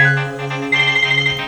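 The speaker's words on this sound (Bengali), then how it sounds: "পাখির জামাই ফোন দিছে" A mobile phone rings with an incoming call, a loud, steady melodic ringtone with sustained tones that shift in pitch partway through, heard alone at close range.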